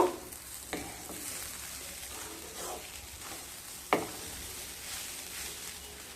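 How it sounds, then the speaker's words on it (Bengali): Garam masala powder is stirred into semolina upma frying in a pan, giving a soft, quiet sizzle with a few scattered scrapes and one sharper knock of the spoon against the pan. "দিয়ে ভালোভাবে মিশিয়ে নেব।"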